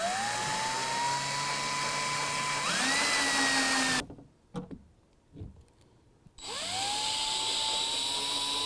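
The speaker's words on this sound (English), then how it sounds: "in our 3 cab side holes, we're going to drill a 9/64-inch hole" A power drill fitted with a 1/2-inch drill stop bores 9/64-inch holes into the bed of a 2016 Toyota Tacoma. Its high whine climbs in pitch, cuts off for a couple of seconds of quiet clicks and handling, then spins up again.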